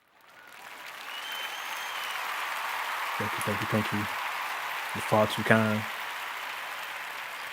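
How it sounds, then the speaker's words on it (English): Steady canned applause from a sound effect for a podcast host rises quickly and holds throughout, with someone speaking briefly over it twice. "Here's my applause."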